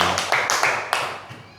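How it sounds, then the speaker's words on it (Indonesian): A handful of scattered, slightly echoing claps for children in a classroom lesson, brief and uneven. "Tepuk tangan untuk anak-anak semuanya yang baik-baik."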